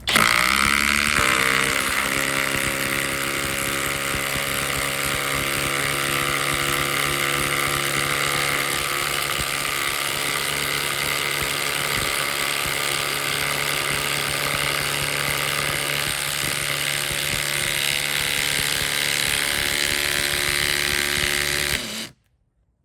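FLEX impact driver with a 5 amp hour battery driving a 3/8 by 6-inch lag screw, a loud continuous whirring hammer buzz held for about twenty seconds, then abruptly cutting off.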